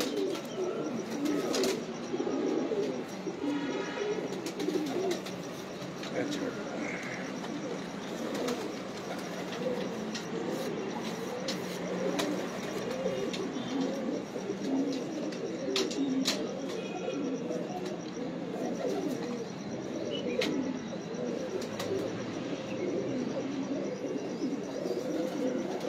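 Pigeons cooing continuously in a dense chorus of overlapping, throaty rolling coos, steady and fairly loud throughout, with occasional sharp clicks and a faint background rumble.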